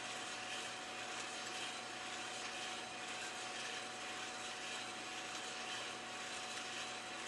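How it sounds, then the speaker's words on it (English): Fan running inside a Hottop KN8828B-2K+ home coffee roaster during a roast of Costa Rica black honey beans: a steady, quiet, continuous whir with a faint mechanical hum that never changes. "so I'm going to run the fan for a little bit, maybe clear out some humidity in there"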